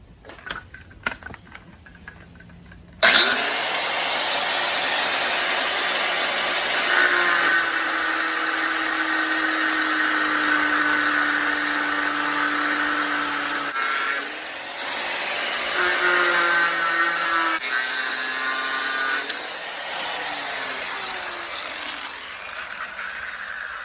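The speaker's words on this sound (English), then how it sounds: "I'm just going to clean it up now with a grinder so make it look a little more natural" An angle grinder works over an A/C compressor on an LS-swapped 1969 Firebird Trans Am, starting abruptly after a quiet moment and running loud and steady with a high whine, its pitch dipping briefly under load a few times.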